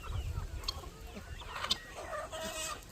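Chickens on a homestead cluck and call close by in short, uneven bursts, a busy little flock with no talking.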